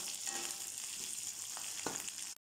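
Curry leaves and dried red chillies sauté in hot oil in a pan, giving a steady close sizzle with faint stirring scrapes throughout, no voices.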